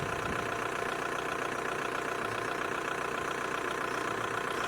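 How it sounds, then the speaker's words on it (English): A diesel car engine idles steadily on State Highway 89 in the Eastern Sierra, a continuous low rumble with a faint knocking texture, close and even throughout with no talking. "I love the sound of that diesel."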